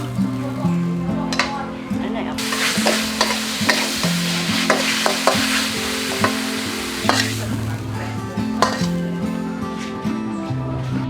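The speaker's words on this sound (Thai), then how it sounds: "กะเพราเขาผัดแบบแห้งๆนะฮะ" Dry-style pad krapow is stir-fried at a Thai eatery near a riverside campsite, with a continuous loud sizzle and repeated rhythmic scrapes and clanks of a spatula on the pan. Voices talk through the frying.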